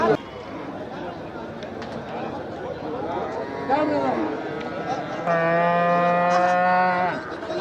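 Cattle at the Melapalayam cattle market low and bellow nearby, one long loud moo rising clearly near the end over a bed of crowd chatter and people talking.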